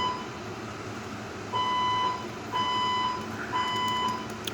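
A false fire alarm sounding in a home, its steady electronic tone pulsing in long beeps of about half a second with short gaps, clear and moderately loud over a low background hum.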